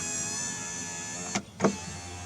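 An electric car window motor on a faulty regulator whines with a steady high tone, cuts out briefly with a click, then restarts after a thump, close by with no talking.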